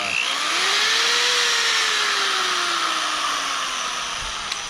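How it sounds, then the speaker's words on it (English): A variable-speed 90-degree angle drill boring into steel whines steadily, its motor pitch rising quickly then sagging slowly under load, close and loud with no talk, ending in a faint click. "I'm using a 90-degree angle drill"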